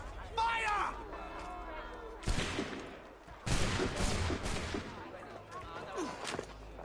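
Musket volley fired on command in Assassin's Creed 3, several loud crackling shots in ragged bursts, with shouting voices mixed in around the gunfire.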